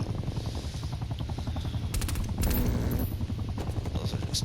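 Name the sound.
helicopter in Call of Duty Black Ops Cold War video game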